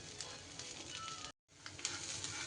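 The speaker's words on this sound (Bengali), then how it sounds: "আর শব্দ হচ্ছে ফুটফুট করে মশলার সাথে" Rice frying with spices in a pan over low gas flame for prawn pulao, a soft steady sizzle with light crackles, briefly cut to silence midway.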